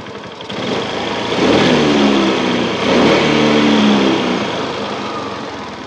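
A Suzuki Access 125 scooter fitted with a Splendor carburetor runs close by with a buzzy, light engine note. It swells through two brief throttle blips before settling back to a steady idle.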